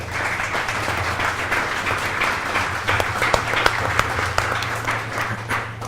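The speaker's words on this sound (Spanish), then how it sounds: "Pido un aplauso para todos ustedes." An auditorium audience at a colloquium breaks into sustained applause, dense clapping with a few sharper individual claps, over a steady low hum from the room.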